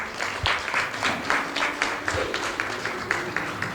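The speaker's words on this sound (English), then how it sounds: "Continue clapping." An audience claps at a Brahma Kumaris facilitators' training event, a steady round of applause with individual hand claps rising in a loose, irregular rhythm throughout.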